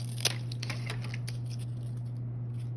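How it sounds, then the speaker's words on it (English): Scissors snip the end off a piece of cardboard, a few quick, faint cuts close by over a steady low background hum, with no talking. "all I'm gonna do is snip off the end there and snip off the end here"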